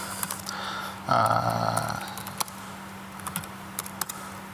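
A load command is typed on a computer keyboard at a programming talk, giving a short burst of close key clicks and then a few scattered single taps over a quiet room.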